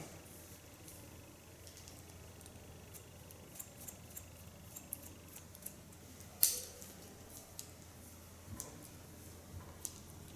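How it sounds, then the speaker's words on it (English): Hairdressing scissors slice-cutting hair during a bob haircut, faint scattered snips and light ticks with one sharper cut near the middle, close and quiet over a low background hum. "Over the rounding and start slice cutting again."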